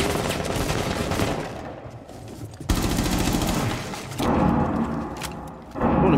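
Gunfire in the video game Rainbow Six Siege, with loud, dense bursts of rapid shots and blasts following each other in sustained volleys and brief gaps, close and harsh, with no voices.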